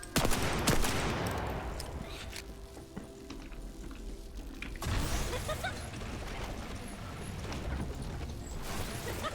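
Sustained rapid gunfire from a hand cannon in The First Descendant video game, a dense loud burst of shots at the start easing into continuous firing with mechanical clatter throughout, no talking.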